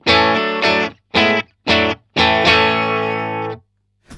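A clean electric guitar signal plays unaccompanied, with several loud strummed chords in a choppy rhythm and a longer ringing chord at the end.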